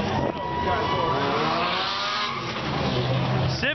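Black Civic hatchback racing an Audi at a drift and drag event, with loud continuous engine roar and a brief tire squeal close by, a voice talking over it throughout.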